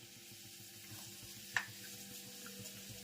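Cloves and spices tempering in hot oil for a stuffed bitter gourd dish, a quiet steady sizzle broken by one sharp crackling pop partway through.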